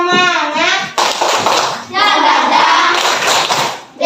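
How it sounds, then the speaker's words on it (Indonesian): A school class performs the rhythmic Indonesian spirit clap, tepuk semangat, with patterned bursts of hand claps mixed with children's chanting voices, loud and close, in short phrases separated by brief pauses. "Oke, tepuk semangat."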